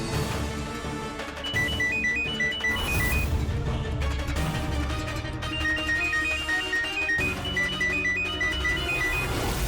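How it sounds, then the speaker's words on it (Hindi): A phone ringtone plays a repeating high melodic pattern in two bursts, over a busy background of other sounds, in a scene from a Hindi TV crime drama. "उस दिन अचानक से वो रिंगटोन बजने लगा"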